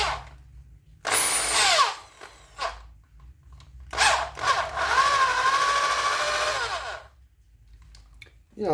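A high-pitched electric drill powered through a variac whines in several bursts, spinning up and dropping in pitch as it's loaded by hand, with pauses between runs.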